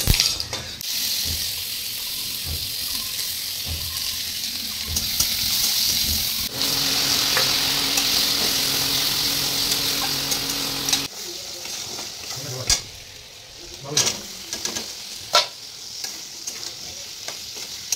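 Onion frying in fish oil in a home kitchen pan, a loud continuous sizzle with stirring and scraping that thins out later into scattered clatter and knocks.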